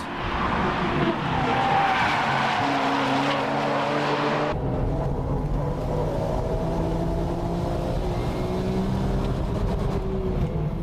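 Nismo and Porsche 996 Turbo race cars cornering hard on a circuit, engines roaring loud and close with a sudden shift in pitch midway, tyres skidding under a continuous, dense mechanical din.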